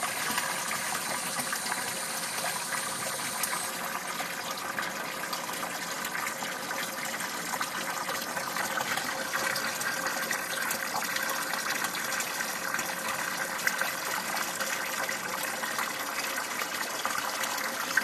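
Water streams continuously from a bleed valve on a baseboard hot-water heating system, flowing steadily into a container as trapped air is purged, a close and constant gushing hiss with no talk.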